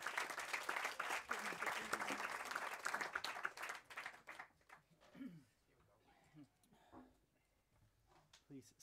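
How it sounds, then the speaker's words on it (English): Audience applause greets residents invited onto a stage at a housing event, loud and dense for about four seconds before thinning into scattered claps, with speech emerging as it fades. "Give them a round of applause, please"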